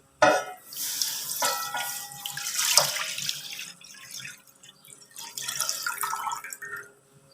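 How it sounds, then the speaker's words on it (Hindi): Two kilograms of milk are poured into a pot for making khoya, giving a close, splashing liquid stream with uneven surges and dribbles that taper off near the end. "अब हम इसमें 2 किलो दूध ऐड करेंगे।"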